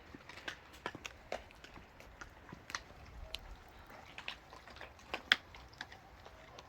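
A dog chews and bites into meat with faint, irregular wet clicks and crunches, close but quiet, with one sharper snap near the end.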